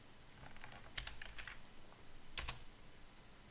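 Typing on a computer keyboard, a handful of light clicking keystrokes in short bursts with a brief cluster near the end, quiet and close over faint background hiss with no voices.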